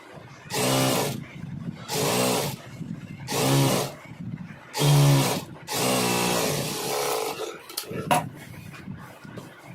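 A sewing machine stitches contrast piping onto fabric in repeated bursts of close, loud whirring, about five runs separated by short pauses, with some handling noise near the end.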